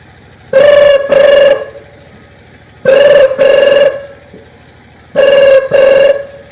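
Telephone ringing during a call to a police station, a loud, close double ring repeated three times with short silent gaps between, and no voices.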